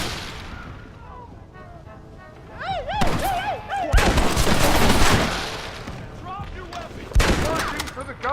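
A Gatling gun in a Western video game hammers out sustained bursts of loud rapid gunfire, swelling into a dense barrage mid-clip and erupting again near the end, with ricochet-like whines and scattered game sounds throughout.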